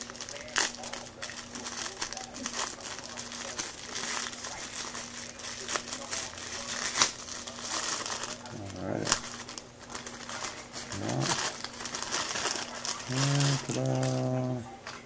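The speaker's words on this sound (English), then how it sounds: "So let's rip this bad boy open." Supplement package being ripped open, with a burst of crinkling and tearing plastic noise close up, mixed with voices, rustling and a few short tonal beeps near the end.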